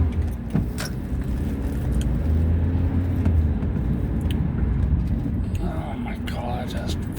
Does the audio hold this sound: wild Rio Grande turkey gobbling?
no